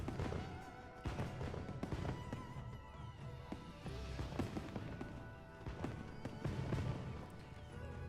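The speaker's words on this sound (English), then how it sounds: "You're gonna clip the fireworks." Fireworks during the Spring Blossom event in Monster Hunter Wilds: a dense, continuous barrage of booms, crackles and thuds, steady and fairly loud, with no talk.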